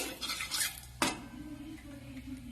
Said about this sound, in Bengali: জিরেটা ভালো করে একটু ভাজা ভাজা করে নেই।